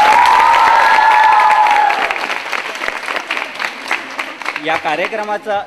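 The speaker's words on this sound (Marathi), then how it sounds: "जोरदार टाळ्या होत्या." A college audience at a Marathi stage quiz show in Satara claps loudly and continuously, the applause staying dense throughout while a presenter's voice and a short music sting sit over the start and some speech comes in near the end.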